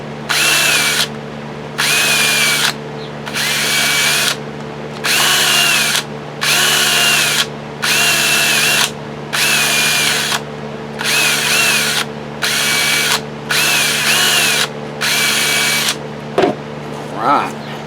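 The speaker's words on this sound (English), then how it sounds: "Then I go through again with the drill." A power drill deburrs the inside of a plastic drain pipe in repeated whirring bursts of about a second each, separated by short pauses, loud and close over a constant low hum.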